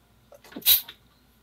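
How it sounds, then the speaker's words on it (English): A single sharp human sneeze, one quick burst with a short intake just before it, close and alone against a quiet room. "I sneezed."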